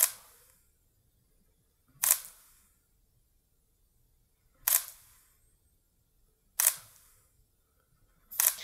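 Five sharp shutter clicks from a Sony A6000 camera spaced about two seconds apart, crisp and close, with near silence between them.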